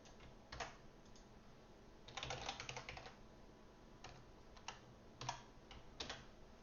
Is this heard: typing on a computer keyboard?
yes